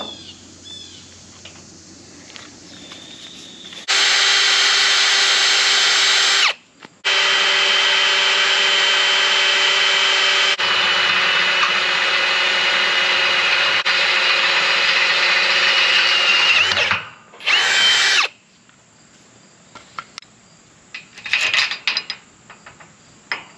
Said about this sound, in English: so I'm going to go ahead and drill it.